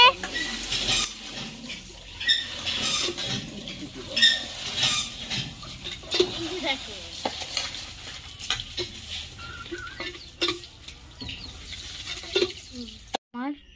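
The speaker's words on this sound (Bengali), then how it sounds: "আমার মা ওই দেখো চিংড়ি মাছগুলো ধুচ্ছে" Prawns are washed under a running kitchen tap, a steady splash of water with handling clatter and stirring, and a person talking at times.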